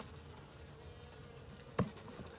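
Honey bees in a small nuc hive on a cool January day give off a faint, steady low hum, with one brief knock near the end.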